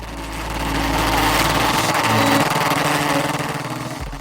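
Formula Ford race car on a slow-down lap at Donington Park, a steady buzzing engine drone that rises and holds, fairly loud and continuous with no voices.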